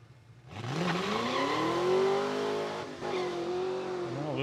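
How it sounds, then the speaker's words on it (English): A 1983 Ford Mustang Fox body launches down the drag strip at Saskatchewan International Raceway, its engine surging into a long, rising roar that dips briefly at a shift before climbing again, heard alone at a moderate distance. "That's a 1983 Ford Mustang, getting some test hits in today here."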